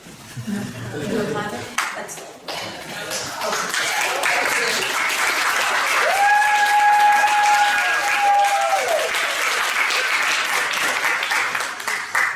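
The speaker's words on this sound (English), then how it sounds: "Can you clap?" Audience at a congressional district candidates debate breaks into applause, a broad clapping wash building and sustaining for most of the stretch, with talk at the start and a sustained tonal ring cutting through midway.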